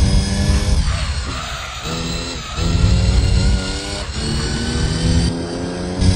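A Mercedes-Benz racing car engine in Gran Turismo 3 revs hard and loud, its rasping pitch rising and dropping through gear changes, continuous and close.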